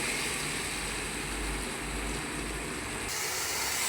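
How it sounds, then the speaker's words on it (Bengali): Dal poured into a hot wok hisses in a broad, continuous sizzle up close, steady for about three seconds before the hiss thins out near the end. "এবার ডালটাকে আমি একটু ছুঁড়ে মারবো, কড়াটায় ঢেলে দিলাম"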